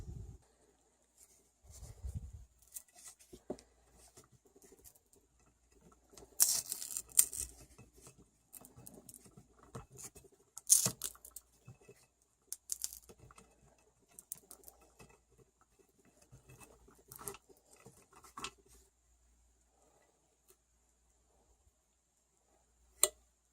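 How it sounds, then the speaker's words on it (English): An X-Acto knife and razor blade cut and peel away material from a Tama Iron Cobra drum pedal footboard in a quiet room, making sparse, faint scratches, ticks and short scraping strokes separated by silences. "use an X-Acto knife, and I have a razor blade here, and I'm just going to cut some of this away and then just peel it back"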